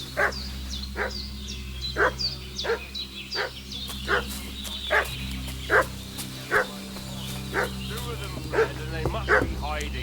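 A dog in Kingdom Come Deliverance 2 barks repeatedly in a steady rhythm of sharp, mid-distance woofs over a low ambient hum, fussing with a few whimpering yips between barks.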